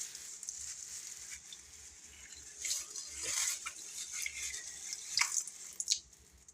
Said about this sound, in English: we're going to run some more water on it